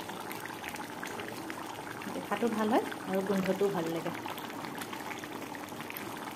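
Duck meat curry with ash gourd and potato bubbles in a pot with a soft, continuous boiling burble, while someone talks over it partway through.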